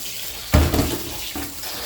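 Tap water gushes into a pot of rice to cool it during jollof rice cooking, a short close splash that surges up loudly and then settles into a steady running flow.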